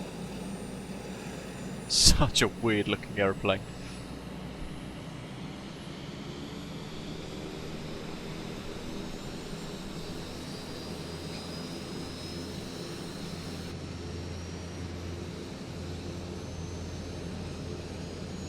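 Twin turboprop engines of a FlightFX P180 starting up in Microsoft Flight Simulator, a steady rising drone and whine held throughout, with someone talking briefly near the start.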